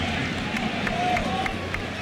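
Stadium crowd at a Yankee Stadium World Series baseball game, a steady broad roar of many voices and murmur with faint scattered claps, distant and continuous.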